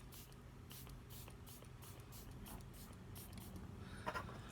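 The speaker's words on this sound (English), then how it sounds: "This has a really fine mister." A fine mister sprays makeup setting spray over a face in a series of short, soft, hissing puffs in a regular rhythm, quiet and close, with no voice.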